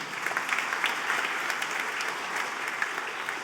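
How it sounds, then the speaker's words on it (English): A church congregation at a parish feast day Mass gives a steady round of applause, many hands clapping together in an even, moderately distant wash with no talking. "He needs another clap."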